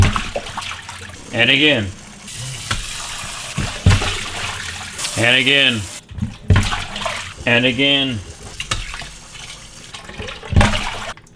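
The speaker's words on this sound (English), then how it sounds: "Rinse the rice." Rice being rinsed in water for makgeolli, with repeated bursts of swirling, sloshing water close up, separated by short pauses while a voice speaks between the rinses.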